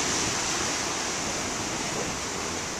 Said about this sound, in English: See, we got a lot of wind whipping up the waves